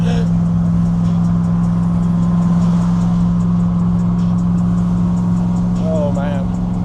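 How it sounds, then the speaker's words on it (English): Steady loud engine drone from a car cruising in 4th gear at about 50 mph, a constant low hum with road rumble running throughout, and brief speech near the end. "This thing is rowdy, and this is pulling like that in 4th gear at 50 miles an hour"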